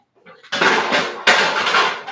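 Pots, pans and metal cookware clatter loudly as they are shifted around a home kitchen, two sharp bursts of clanging and scraping close by, with no talking.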